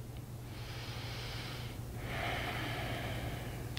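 Deep breathing during a yoga lunge: two long, airy breaths in slow succession, close and soft over a faint low hum.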